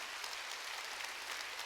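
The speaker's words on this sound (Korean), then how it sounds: "깨달은 사람만 박수 치라고" Church congregation applause during a Sunday worship service, a steady, even wash of many hands clapping, faint and slightly distant with no voices.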